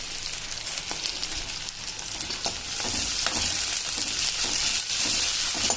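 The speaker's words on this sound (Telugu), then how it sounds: "ఇదిగోండి ఈ ఉల్లిపాయలు బాగా ఎర్రగా వేగాలండి" Chopped onions fry in hot oil for a pond fish curry, a steady close sizzle with occasional crackles and stirring scrapes running through the whole stretch, no talking.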